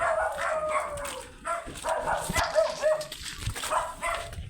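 A dog barks and yips several times in short bursts, fairly close, with some whimpering between the barks.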